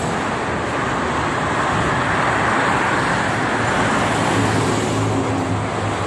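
Dense traffic on the Jakarta–Cikampek toll road, including cars and buses, forms a steady, loud roadway roar with an occasional low engine drone rising out of the continuous wash.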